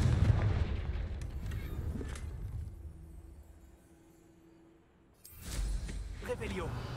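In Hogwarts Legacy, the Confringo blasting spell sets off a loud fiery explosion that booms and then fades over several seconds into a quiet lull, followed by a fresh burst of rumbling impact noise.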